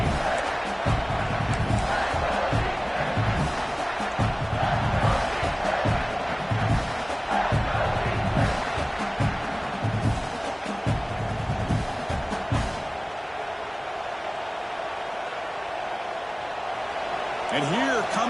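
Loud, continuous football stadium crowd roar with scattered shouts and cheers as the crowd urges a red zone defensive stop, easing slightly toward the end; a voice talks over it.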